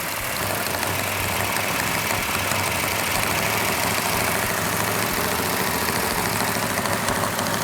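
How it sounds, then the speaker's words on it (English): A new 440 Super Commando V8 in a 1967 GTX, held at raised RPM during cam break-in, drones steadily and loudly with a slightly noisy valve train and a constant broadband roar, with no talk. "We're gonna hold the RPM up so the cam can break in."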